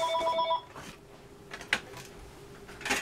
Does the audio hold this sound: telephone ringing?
yes